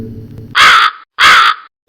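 Two loud, harsh crow caws ring out close by, each about a third of a second long, separated by a brief pause, over faint background hum.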